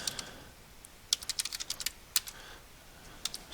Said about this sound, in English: type in your word and then type in synonyms